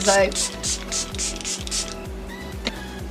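Several short hissing sprays of a makeup setting spray, about six to eight quick bursts in a steady rhythm, close by over a low mechanical hum.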